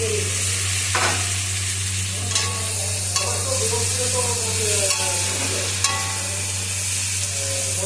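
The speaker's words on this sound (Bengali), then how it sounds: "এরপর আমি কেটে রাখা টমেটোগুলোকে দিয়ে দিচ্ছি কড়াইয়ের মধ্যে" Chopped tomatoes fry in a kadai for a potato and mutton curry, giving a steady close sizzle with occasional scraping stir strokes and a low constant hum underneath.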